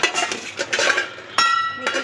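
Steel dishes, pots and cutlery clink and clatter while being washed at a home kitchen sink, in close, irregular knocks and sharp rings with a louder clash partway through.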